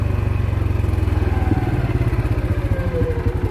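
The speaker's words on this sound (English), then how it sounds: "I like the engine braking on this machine" A 2022 CForce 500 ATV engine braking after the throttle is released, a steady low rhythmic engine drone that shifts slightly partway through and continues evenly, close and alone without voices.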